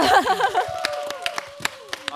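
Audience clapping after a song at a drama press event, scattered claps following a short burst of laughter and voices, thinning into sparse, uneven claps.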